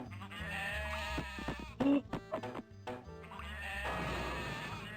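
Several goat bleats in the video game Spy Fox 2, a burst of short cries in the middle over steady background music.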